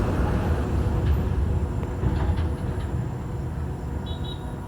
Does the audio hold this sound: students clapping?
no